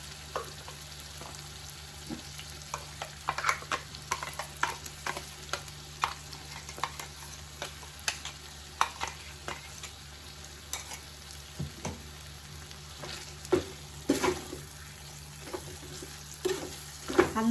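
Brinjal masala gravy stirred in a frying pan, with a spoon scraping and clinking in irregular bursts over a steady low sizzle; moderately quiet, with no talking.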